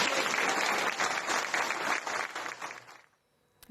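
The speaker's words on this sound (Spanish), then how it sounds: "quiero pedir un fuerte aplauso para mi querido amigo Pablo Castro." Applause from an audience at a gathering, a dense burst of clapping that holds steady, then thins and fades out to near silence, with a brief sharp knock at the very end.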